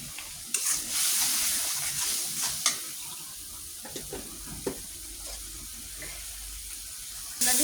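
Spice paste for a bottle gourd curry sizzles as it is fried down in a pan, a hissing bed of sound broken by scraping stirs and occasional louder clacks of the spoon.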